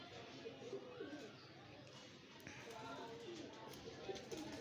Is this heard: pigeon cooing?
yes